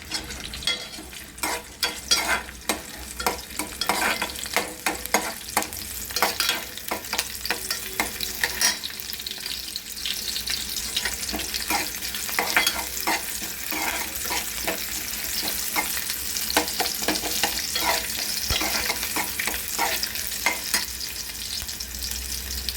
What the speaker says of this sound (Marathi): आता त्याला आपण फोडणी देत आहोत